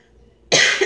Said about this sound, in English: so I apologize if I'm coughing throughout the video